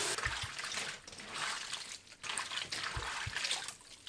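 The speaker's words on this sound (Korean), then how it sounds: "양배추를 한두 번 씻어줍니다." Bite-sized cabbage pieces are rinsed in water, giving a close, continuous swishing and sloshing with a few soft knocks, no talking.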